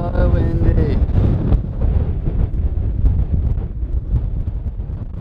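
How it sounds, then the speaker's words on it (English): Strong wind buffets the microphone in a loud, continuous roar with gusty surges, heard while riding a bike outdoors in cold New Zealand, and a voice exclaims briefly near the start. "Oh, it's so windy."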